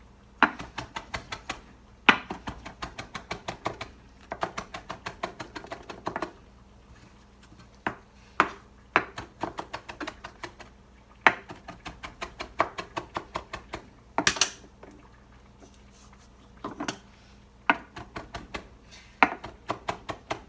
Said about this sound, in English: So we're going to give it a quick coarse chop first.